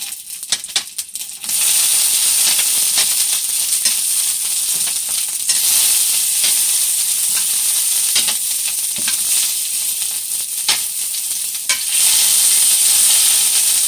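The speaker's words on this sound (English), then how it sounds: "let them sit here and fry like this on medium heat in this extra virgin olive oil for 2 to 3 minutes on each side" Cipollini onions fry in extra virgin olive oil in a pan over medium heat, a close, loud, steady sizzle with crackling pops and light clinks, rising slightly after a quieter start.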